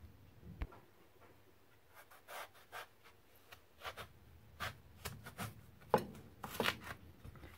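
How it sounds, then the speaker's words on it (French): A knife cutting an aubergine for stuffed aubergines: faint, close scraping and tapping strokes on a board, irregular and quiet, growing a little busier toward the end. "Je vais couper l'aubergine."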